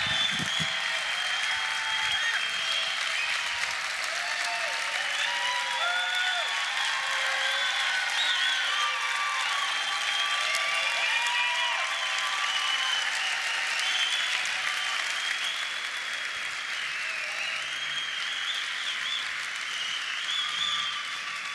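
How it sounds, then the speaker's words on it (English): Sustained applause from a large convention audience fills the hall, a dense, even roar of many hands clapping that continues steadily for over twenty seconds. "why are all these people clapping for grandpa?"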